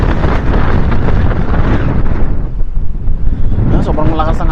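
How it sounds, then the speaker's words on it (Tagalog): Strong wind blasts across a microphone while fishing at a river, a loud continuous rushing roar with gusty swells and a short lull midway. "Sobrang lakas ng hangin dito talaga guys."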